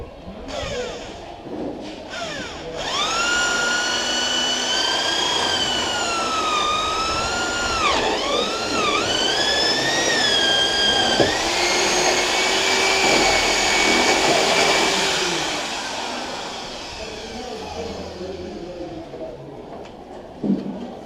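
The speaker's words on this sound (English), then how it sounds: "So we're going to drill those holes now." A power drill bores axle holes through the wooden frame of a DIY mobile chicken coop. The motor whines loudly and close, its pitch sliding up and down for about fifteen seconds before it winds down into quiet.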